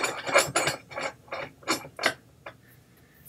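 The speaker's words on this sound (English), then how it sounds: "take this stainless steel rod and you're just going to thread it directly into the nut" A stainless steel rod being threaded into the nut on a vertical stand's base, heard as a series of about seven rhythmic metallic ratcheting clicks, close and fairly quiet, with no talking.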